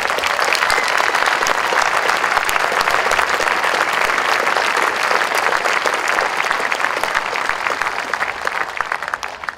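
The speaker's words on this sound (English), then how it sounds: "how about a round of applause for these fine young women?" Dense, steady crowd applause fills an evening ceremony at Mount Rushmore, continuous and loud for several seconds before easing slightly at the end.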